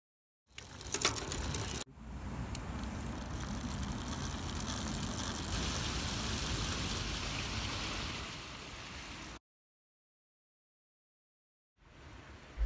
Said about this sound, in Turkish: Şu anda gördüğünüz gibi vites sistemimizi çalışmasını anlatıyorum